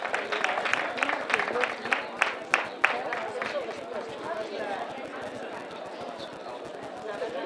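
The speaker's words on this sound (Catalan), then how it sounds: "Així que fora l'aplaudiment també, en aquest cas, categoria de clubs." A crowd applauds at a trail running championship awards ceremony in Catalonia as a club award is presented. Distinct loud claps come first, then settle into softer clapping mixed with chatter and a speaking voice.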